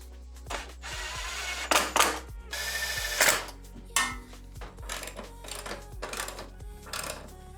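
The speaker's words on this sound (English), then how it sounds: "I can then reinstall the bolts that hold the brake line and the ABS line." Metal bolts being reinstalled on the brake line and ABS line brackets during a car coilover installation, with scattered clinks, ratchet clicks and tool rattles spread across the clip, close and moderately loud, no talking.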